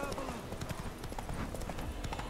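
Horse hooves clip-clop in a quick, steady rhythm in a video game run on an MSI GeForce RTX 2080 Gaming X Trio, close and fairly loud over game music and ambience.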